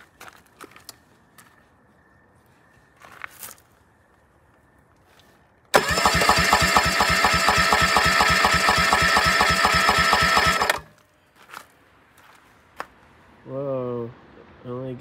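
A 2021 Suzuki 25 HP EFI outboard cranks during a compression test on cylinder 3, which shows low compression: a loud, steady starter whir with rhythmic pulsing lasting about five seconds between quieter clicks and handling noises.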